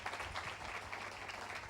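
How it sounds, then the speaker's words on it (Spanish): Church congregation applause, a short burst of soft, continuous clapping heard from some distance, fairly quiet and with no voices over it. "¿Puedes darle un fuerte aplauso a Dios?"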